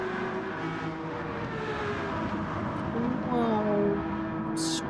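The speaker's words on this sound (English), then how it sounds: "Oh, screaming V12." A historic sports car's V12 engine in a racing video game, a steady high-pitched drone with rising and falling engine tones, heard under a voice talking.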